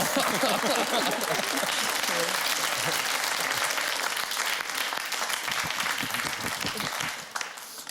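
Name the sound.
audience applause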